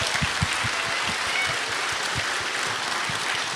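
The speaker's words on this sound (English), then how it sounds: "let's give these guys a round of applause, in fact, because it's not difficult to get up on a stage" A convention audience at EVE Vegas 2017 applauds, a dense, continuous wash of clapping from many hands with no talk over it, steady throughout.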